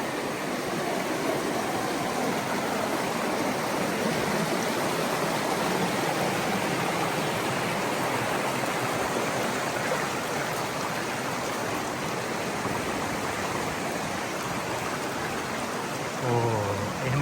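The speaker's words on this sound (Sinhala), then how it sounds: "වෝටර් ෆෝල් එකක් වල අර ලොකු එකක් නෙවෙයි නමුත් ඒ වතුර වැක්කෙන විදිහ ලස්සනයි." A small waterfall at Patuna Chasm spills over rocks in a steady, close rushing hiss that holds constant throughout, with no talking.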